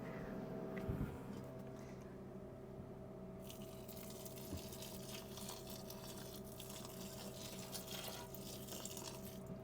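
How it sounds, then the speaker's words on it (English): Water is drizzled over dry coir peat in a compost toilet, giving a faint, continuous trickling wash with low background hum that grows brighter and splashier partway through, with no talking. "I'm literally just going to drizzle it in over the core peat just so we can get it wet."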